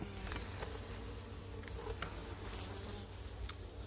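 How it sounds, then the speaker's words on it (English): Honey bees buzzing around a weak hive infected with Nosema, a faint steady insect drone under a low hiss of background noise, with no voices. "I'll just give you a quick show now of what the bees actually look like."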